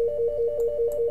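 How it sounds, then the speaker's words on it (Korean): A telephone rings alone in a quiet lecture room, a steady electronic tone pulsing in a regular repeating pattern, clear and close, with no talk over it. "전화가 왔네"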